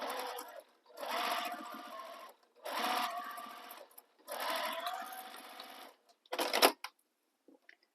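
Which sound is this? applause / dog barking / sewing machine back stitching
sewing machine back stitching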